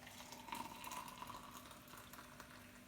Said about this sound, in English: is pour some hot water.